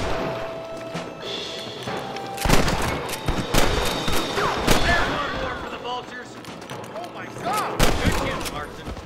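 Gunfire in the western video game Red Dead Redemption, several sharp shots scattered through the scene over a bed of game ambience, with a voice speaking between the blasts.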